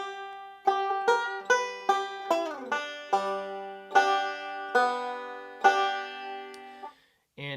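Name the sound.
banjo G lick in Sally Goodin position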